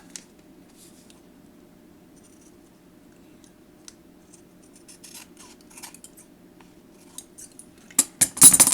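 Scissors trim hefty overhanging material at close range, starting with faint, sparse snips that build into several loud, sharp cuts near the end.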